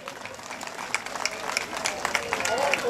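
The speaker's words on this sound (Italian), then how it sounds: "chiedo un applauso per il grande Franco Bergamini" An audience at an orchestra concert claps in applause, a steady patter of many hands with a speaker's voice over it, growing slightly louder toward the end.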